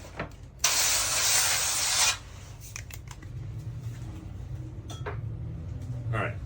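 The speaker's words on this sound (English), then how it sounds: "I'm going to actually spray the pan with a little bit of Pam." A can of Pam cooking spray hisses onto a baking pan in one loud, close burst of about a second and a half, followed by faint kitchen clatter while making an apple cheesecake.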